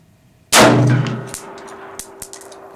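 A High Standard HSA-15 AR-15 rifle fires one sharp, loud shot outdoors that rings out and decays, followed by a few faint clicks and taps.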